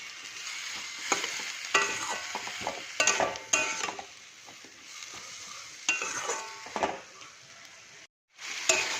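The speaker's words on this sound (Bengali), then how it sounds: "এবার মশলাটা একটু ভালো করে কষিয়ে নেব।" Ginger, chili powder and cumin powder masala being stirred and fried in a pan for a papad curry, with a steady sizzle broken by repeated scraping stirs; no talk.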